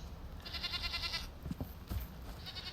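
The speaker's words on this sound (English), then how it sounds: "Yep, have some sheep visiting." Sheep visiting near village houses in a video game: two bleats, one long wavering cry and a shorter one at the end, fairly faint over a low ambient hum, with no speech.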